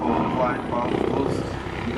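A Bo-105M helicopter performs aerobatics at a Red Bull air show, its steady rotor and engine roar filling the clip while someone speaks over it.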